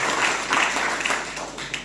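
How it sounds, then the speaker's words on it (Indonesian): A congregation at a Christmas worship service in Banjarmasin claps together in a sustained, dense wash of applause that fills the room, with faint voices mixed in. "Berikan tepuk tangan bagi Tuhan Yesus."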